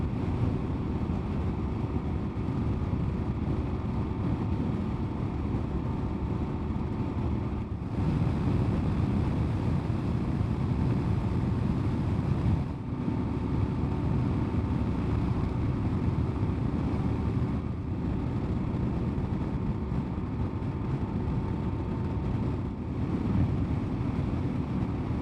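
Steady, loud wind roar from riding a KLR650 motorcycle with a windshield riser set in the forward-facing position, a broad continuous rush with brief dips, no talking.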